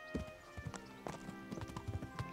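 Horse hooves in the video game Kingdom Come Deliverance clip-clop in a quick, uneven walking rhythm, fairly close and clear against a faint musical hum, with no talking.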